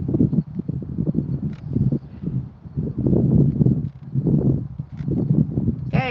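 A rescue horse walks with a rider, hooves thudding in an uneven plodding rhythm amid rustling outdoors, with faint voices speaking now and then.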